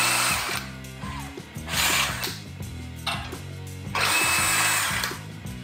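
Einhell 18V brushless drill at speed 1 driving a self-drilling screw into 1/8-inch steel angle, a loud, continuous motor whir with rising bursts of grinding strain and ratcheting rhythm, heard close with no talk.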